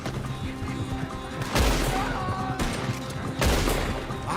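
Heavy gunfire in a Red Dead Redemption 2 street shootout, with two loud, booming bursts of shots that ring out over a steady game background.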